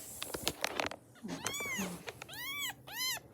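A stray cat gives a few rising-and-falling meows, close but fairly quiet, after some rustling and faint background noise, with dogs nearby.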